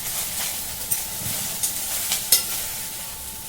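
Okra (bhindi) fries in a pan with a steady close sizzle and hiss, punctuated by a few sharp scrapes and clinks as it is stirred.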